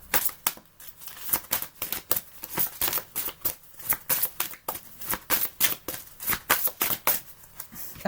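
Tarot cards riffled and handled in quick repeated bursts, a close, crisp series of flicking slaps with brief pauses between shuffles, with no talking.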